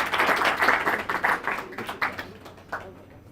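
Scattered clapping from a meeting audience thanking a guest, a loose patter of hands that thins out and fades over a few seconds, moderately distant.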